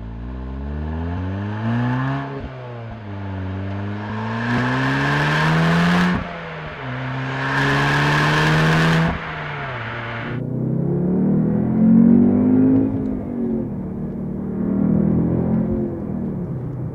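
A 2015/2016 Audi TTS (8S) being driven on public roads, its engine revving up and down through several gear changes with rising and falling pitch, loud and close, no speech.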